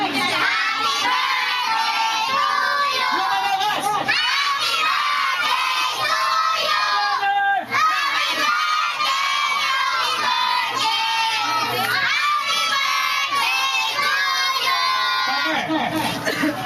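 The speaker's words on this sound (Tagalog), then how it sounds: "kids, kanta tayo ng happy birthday. Yung malakas, okay?" Children at a first birthday party singing happy birthday loudly together, a dense, continuous chorus of young voices with shouting tones, close and steady throughout with a brief dip midway.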